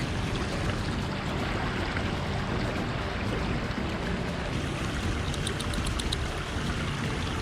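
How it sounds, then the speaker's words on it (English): A creek running over stones, a constant broadband rushing wash heard close and steady throughout, with no voices. "Inspector Bragner is not overly thrilled with the creek."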